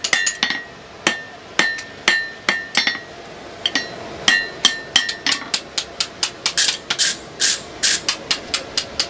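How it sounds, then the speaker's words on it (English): Hammer blows on hot metal during forge welding, with a steady string of sharp, ringing strikes close by. The rhythm starts fairly spaced, then speeds up into quick, even blows in the last few seconds. "For joining two bits of metal together in the fire, it's called forge welding"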